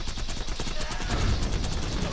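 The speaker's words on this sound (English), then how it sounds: "I really dislike how inaccurate this gun is." Dense rapid gunfire from a video game, a continuous rattle of shots with low rumbling impacts throughout, no clear speech.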